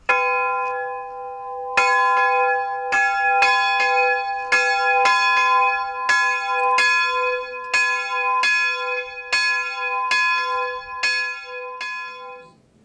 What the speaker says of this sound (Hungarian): ők szólaltatták meg a gellaiak harangját